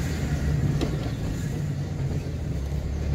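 A car engine hums and rumbles steadily as the learner driver accelerates during a driving lesson, a continuous low drone close by with faint road noise and no clear speech.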